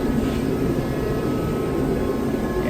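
A 1994 Honda Civic hatchback with a B16 engine and freshly modified exhaust roars steadily at high revs, a loud, continuous, close drone with no talking over it.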